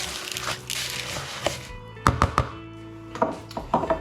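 Crushed biscuit crumbs and melted butter being mixed in a bowl, heard as soft scraping and a few sharp utensil knocks against the bowl, close and fairly quiet.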